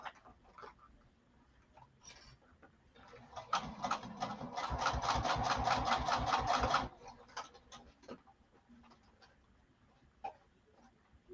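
A sewing machine stitches a back tack on a garment lining at a 4 stitch length, a fast, steady burst of needle strokes lasting about three seconds, close and clear, with quieter handling clicks before and after.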